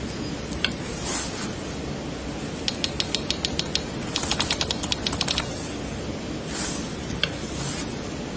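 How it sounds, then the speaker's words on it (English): Computer keyboard typing in bursts of quick, light clicks over a steady background hum, with pauses between runs of keystrokes, heard during a police DUI arrest with no talk. "I'm just typing your information in here"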